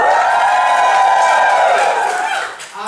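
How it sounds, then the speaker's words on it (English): A student comedy crossover gig audience from Lancaster cheering and clapping on request, a loud, close, sustained roar of whoops and applause that fades near the end. "Can I get a cheer from everyone from Lancaster tonight?"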